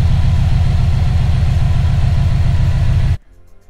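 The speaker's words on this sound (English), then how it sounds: "that's the engine just kind of idling at its normal warm temperature idle speed" A warm engine with no compression in cylinder four idles loud and close with a rhythmic, slightly uneven lope, then shuts off abruptly, leaving near silence.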